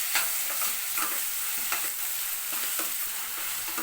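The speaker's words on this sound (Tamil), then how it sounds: "வெங்காயம் வந்து நல்லா வதங்கணும்." Onions frying in oil with ginger, garlic and green chilies, stirred continuously: a dense, close sizzle with frequent scraping and clicking of the spoon against the pan.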